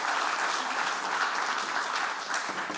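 A conference audience applauds after a speaker, a short burst of dense, even clapping filling the whole moment without talk.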